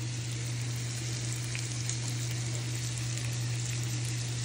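Shrimp and garlic frying in olive oil give off a dense, even sizzle that holds steady throughout with only faint tossing movement. A low steady hum runs underneath, and nobody speaks.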